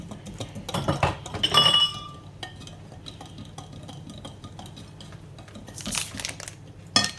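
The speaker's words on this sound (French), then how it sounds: "Comme je vous ai dit, 375 g de farine. Voilà, on remue." Flour being stirred in a bowl produces scattered clinks and scraping of a utensil against the dish, with a few louder bursts early and near the end amid quieter rustling.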